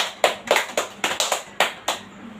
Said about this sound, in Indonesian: Oke, tepuk tangan untuk Kak Prin.